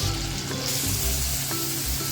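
Oil heating in a kadhai sizzles and crackles steadily, a continuous close frying hiss with small pops, no talking over it.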